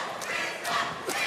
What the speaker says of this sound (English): You can hear the crowd getting behind Wisdom right now.